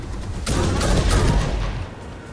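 Gunfire in the factory-building video game Satisfactory: a loud burst of rapid shots lasting over a second, close and dense, then fading into quieter ambient game sound.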